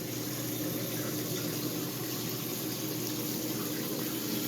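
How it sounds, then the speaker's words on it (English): A GE belt drive washing machine drains water, producing a steady, even rush of flowing water with a constant hum, close and unbroken throughout. "Because the lid lock, it just locked, so now we're draining."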